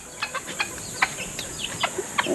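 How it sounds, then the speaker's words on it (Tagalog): Backyard chickens on a rural Philippine farm plot give short, repeated clucks and chirpy calls, several close, sharp notes scattered over a steady background hiss, with no talking. "At ito pa yung mga manok natin guys"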